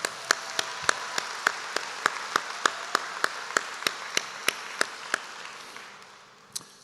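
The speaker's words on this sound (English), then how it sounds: "It's good to clap." Slow, evenly spaced single claps ring out at a college commencement ceremony, about two or three per second, sharp and distinct over a quiet background, tapering off with one last clap after a pause.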